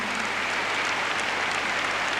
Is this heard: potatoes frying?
no